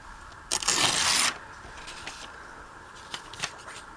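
Music paper being handled and torn for an envelope collage, with one long crisp rip near the start followed by lighter rustles and brief crinkling sounds.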